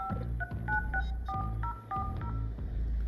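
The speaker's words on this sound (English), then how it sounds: "Let me dial in." A telephone keypad sends a quick run of DTMF dialing tones, about a dozen short clear beeps in a brisk uneven rhythm, close and fairly quiet with no talking.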